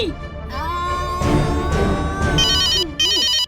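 A loud phone ringtone plays continuously, a bright repeating electronic melody ending in rapid trilling bursts, close and unaccompanied by speech.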